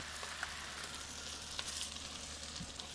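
Kielbasa, potatoes and onions frying in a pan, giving a close, steady sizzle with a few faint stirring clicks and no voices.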